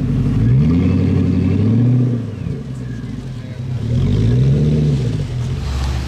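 A Ferrari Pista Spider sports car on a Monaco street revs hard twice, each rising and falling roar clearly audible with a quieter lull between, and someone speaks over it.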